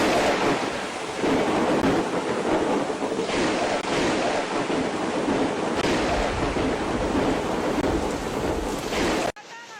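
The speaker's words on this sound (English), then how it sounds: "It's over, it's hail." Heavy hail pours down in Fuzhou, Fujian province, a dense, constant roaring clatter that stays loud and steady for several seconds before cutting off abruptly at the end.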